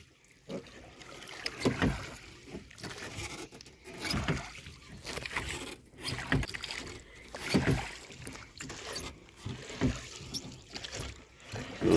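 Oars dip and pull as a rowboat moves across the Machhu Dam No. 2 reservoir near Morbi, with steady rhythmic splashes and water patter close by and light wind in the background.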